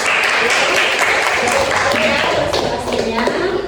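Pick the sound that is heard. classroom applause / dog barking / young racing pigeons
classroom applause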